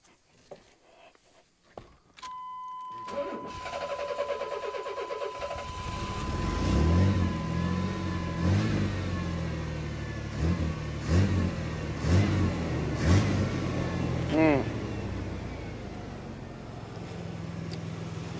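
A 1991 Chevy S-10 pickup truck engine with a suspected weak fuel pump, cranking and catching, then running steadily nearby with several revs rising and falling over a continuous idle.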